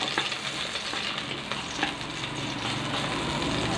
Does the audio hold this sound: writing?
no